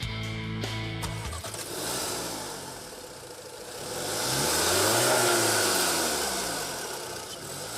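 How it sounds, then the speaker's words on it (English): The turbocharged 2-liter TFSI engine of an Audi S1 Sportback starts with a few sharp revs, then settles into a rising and falling rumble that swells to a loud mid-clip peak before easing off. "The S1 Sportback gets its incredible power from its turbocharged 2-liter TFSI engine"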